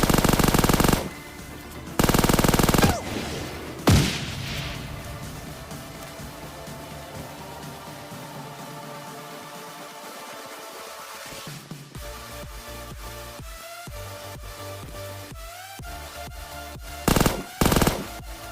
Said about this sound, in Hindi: ये बीच बीच में से आरपीजी भी मार रहा है और कुछ मतलब गन साउंड भी अच्छे अच्छे आ रहे हैं